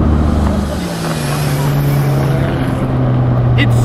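A Ford Laser TX3 AWD turbo hatchback with a five-speed gearbox pulls hard, its engine note holding a steady rising drone close by with a brief shift dip early on, under continuous loud noise.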